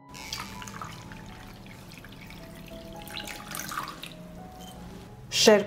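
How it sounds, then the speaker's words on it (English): Lukewarm water poured from a tap into a pot holding hot glass jars, a soft running trickle with a brief louder splash at the end, and a voice speaking faintly at times. "The jars are hot, so I pour lukewarm water up to the height of the lid"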